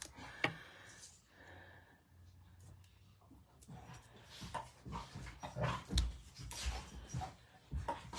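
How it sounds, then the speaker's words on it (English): Dogs wrestling outdoors, with irregular scuffling, panting and small whimpers at a moderate distance, rising and falling in bursts. "Can you hear the dogs are wrestling out there?"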